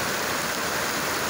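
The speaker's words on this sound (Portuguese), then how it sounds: "Muita chuva." Heavy rain pours down steadily in Milagres, Ceará, a dense, loud, unbroken wash of noise with no talk.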